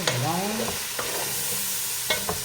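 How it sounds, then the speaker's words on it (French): Chicken being stirred with flour in a hot frying pan, a steady sizzle under repeated scraping strokes of a utensil, close and fairly loud with no talking. "on mélange bien"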